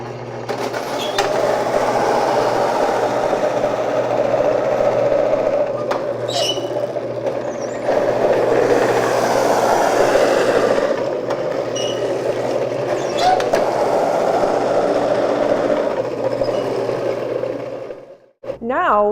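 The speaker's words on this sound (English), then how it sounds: "We will simply cut the cabbage into larger pieces, as this machine will take much larger loads." A food-shredding machine works through large pieces of cabbage with a steady, loud mechanical whir that grinds on for nearly twenty seconds, close by, with brief clatters along the way and a sudden stop near the end.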